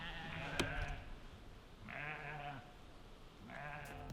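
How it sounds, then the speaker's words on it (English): Sheep and lambs bleat outdoors on a New Zealand hillside, three distinct wavering calls spaced a second or so apart, moderately near over a steady breezy background. "There's a lot of them, though. And there's lambs, too. You can hear them."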